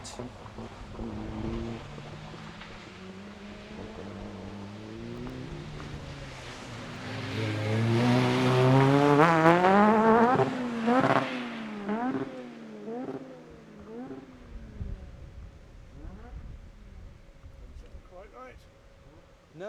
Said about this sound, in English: As down towards us comes car 28.